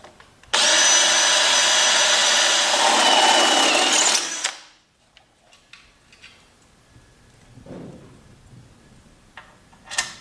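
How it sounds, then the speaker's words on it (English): A power drill whirs loudly for about four seconds while drilling a hole for fender installation on a 2015 Jeep JK Wrangler, then winds down, followed by quiet clicks and small handling noises. "right here is the first hole I got to drill"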